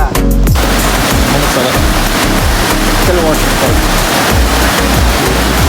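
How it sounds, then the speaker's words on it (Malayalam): Loud, dense rain roaring steadily throughout in the Pashukkadavu and Janakikkad forest area of Kerala, a constant wash of noise with low rumbling underneath and a voice speaking over it. "നല്ല മഴ"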